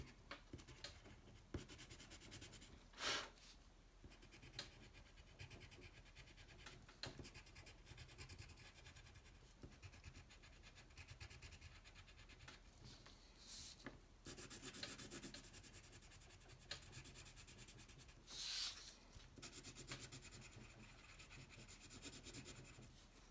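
Crayon rubs and scratches across paper in steady, quiet back-and-forth strokes, with a few louder scrapes scattered throughout and no talking.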